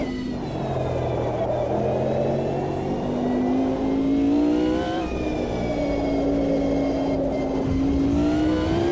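A race car engine in the sim racing game Automobilista 2 drones loudly and continuously, its pitch climbing and dipping through gear changes and corners, with a faint whirring beneath.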